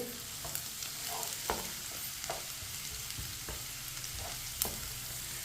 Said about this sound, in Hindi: इसी तरह चम्मच चलाते हुए ब्राउन करना है प्याज को।